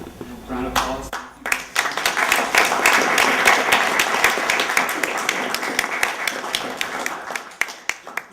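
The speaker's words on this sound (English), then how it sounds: "Round of applause." An audience at a student filmmaking expo breaks into applause: a few lone claps first, then a dense, loud burst of many hands that holds steady before thinning to scattered claps at the end.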